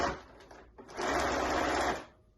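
Sewing machine stitching fabric about an eighth of an inch from the edge around a small animal lovey, a short burst then a longer steady whirring run, close and alone.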